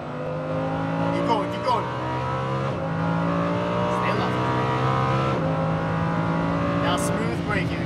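A Lamborghini Huracan V10 accelerates hard on track at Las Vegas Motor Speedway, its engine climbing through gears with distinct shift breaks, loud and close from inside the car while a voice coaches over it.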